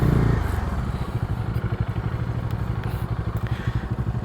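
A Bajaj Dominar 250 motorcycle runs close by with a steady, throbbing engine rumble and a slight clatter, holding an even idle-like pulse with no talking.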